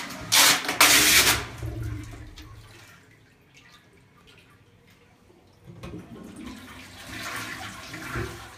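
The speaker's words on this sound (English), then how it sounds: "Now you flush the toilet, you will see the plunger will inflate." Toilet flushing as a water plunger inflates in the bowl, a loud rushing burst early on that fades into quieter gurgling water, then swells again toward the end.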